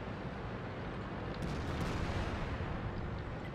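Artillery fire in World of Tanks, a dull rumbling boom swelling amid dense noisy battle background, moderately loud and alone without talk.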